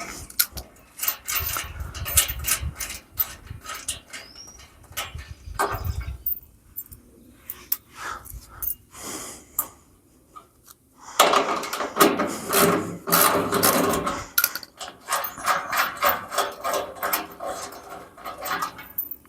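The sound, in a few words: ratchet removing bolts from a firewood conveyor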